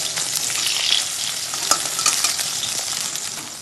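Stuffed ash gourd leaf chops fry in a pan with a dense, steady sizzle and a few sharper crackles as they are turned, no talking.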